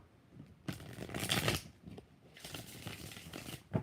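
Tarot cards being shuffled by hand, bursts of riffling and sliding close up in two main runs separated by a short pause, with no voices.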